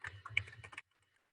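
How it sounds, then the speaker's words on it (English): A computer keyboard tapped quickly in a short burst of keystrokes while an address is typed, faint and close, then silence. "as I start typing in an address"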